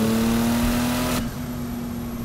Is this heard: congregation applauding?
no